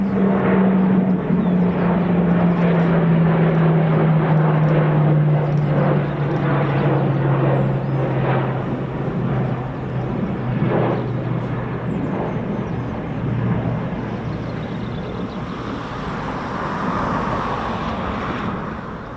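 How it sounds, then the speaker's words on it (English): Boeing P-8 Poseidon maritime patrol aircraft flying past, a loud jet rumble with a falling engine tone as it passes, fading gradually and swelling slightly again near the end. "P8 Poseidon Maritime Patrol"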